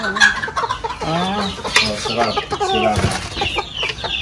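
Native chickens clucking and calling on a farm, several birds close by with overlapping rising clucks and squawks filling the space, busy and moderately loud throughout.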